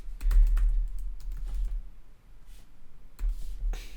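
Fingers typing on a computer keyboard, quick bursts of close, crisp key clicks with a short pause midway before another flurry of taps.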